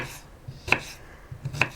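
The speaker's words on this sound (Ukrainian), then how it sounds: "І я таким чином нарізаю всі плоди" Two sharp knife strikes against a cutting board as pears are cut into cubes, a short pause between them, with faint softer contacts of the blade on the fruit around them.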